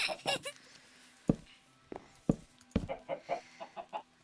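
Several short, sharp chicken clucks in Minecraft pop up one after another, with a low steady hum running underneath.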